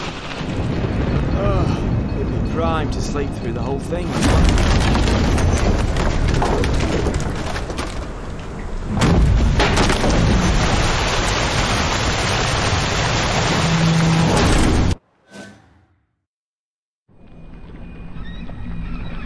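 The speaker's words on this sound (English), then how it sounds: "Didn't bargain for no storm." A thunderstorm with heavy rain and wind batters a boat at sea in The Witcher 3: Hearts of Stone, a loud dense roar that stops abruptly near the end while characters talk over it.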